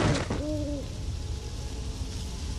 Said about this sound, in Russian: Аномальная сова.